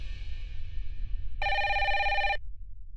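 A landline telephone in a Tamil TV serial gives one loud, clear electronic ring burst lasting about a second, nearby, after a quieter fading tone, with a low room hum underneath.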